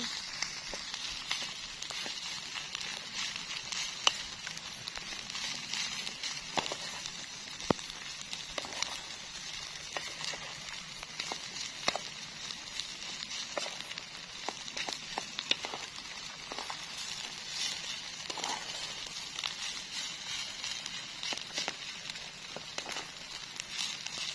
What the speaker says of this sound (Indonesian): nambah terus hujannya